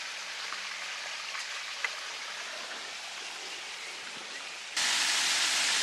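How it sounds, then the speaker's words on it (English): A natural creek along a hiking route on the Rhine flows with a steady, soft rushing wash that swells louder near the end, with no voices. "This one seems more like a natural creek."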